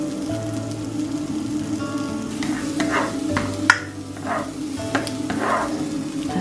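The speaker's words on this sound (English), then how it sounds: "I've just added a bit of garlic and a little bit of onion into the pan next. Got a lovely sizzle going on there" Garlic and onion sizzle steadily in a frying pan, a continuous crackling hiss with a few louder pops and stirring scrapes, heard close with no talking.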